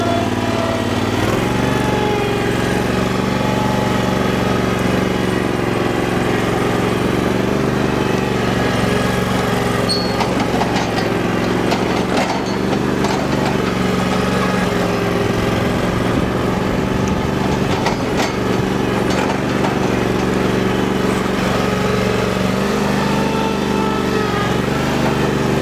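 A Power Trac tractor's small engine runs steadily at low idle, a constant buzzing drone held close and loud with no voices over it.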